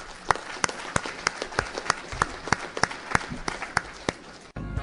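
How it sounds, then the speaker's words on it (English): Sparse applause at an AA speaker convention, a few distinct hand claps at a fairly even rhythm over a faint crowd wash, cut off abruptly at the end. "give whoever that person is a round of applause right now."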